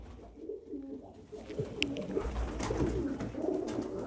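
Several meat-breed pigeons coo softly and continuously at close range on a pigeon farm in Damietta, Egypt, with low rustling in the background and no talking.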